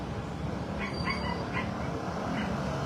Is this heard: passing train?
no